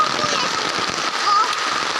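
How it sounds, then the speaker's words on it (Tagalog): Rain falls on a mountainside in a dense, steady hiss of patter with small crackling drops, close and fairly loud, and there are no voices. "Ay, umuulan."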